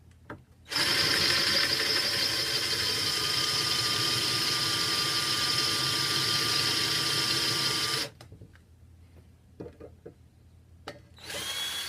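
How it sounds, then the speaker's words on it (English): A drill with a 3/8 metal bit bores into a metal rod for a sliding barn door installation, giving a loud, steady, close whine that runs for about seven seconds and then stops, followed by quieter handling noises. "Using a 3/8 metal bit, we're going to drill into the rod every 16 inches"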